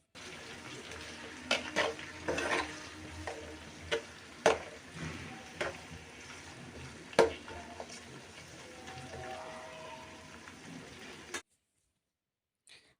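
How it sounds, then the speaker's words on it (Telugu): Onions, green chillies and curry leaves frying in oil with a steady low sizzle, stirred with a ladle that makes scattered sharp clinks and scrapes against the pan, close by, until the sound cuts off near the end. "ఆ ఆయిల్లో మనం కట్ చేసి ఉంచుకున్న ఆనియన్స్, గ్రీన్ చిల్లీస్, కరివేపాకు వేసి గరిటెతో మెల్లగా కలుపుతూ 2 నిమిషాల పాటు వేయించుకోవాలి"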